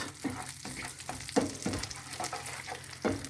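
Butter melting in a pan as the base for caramel, a steady soft sizzle and crackle with a few sharper pops, close and fairly quiet, with no talking.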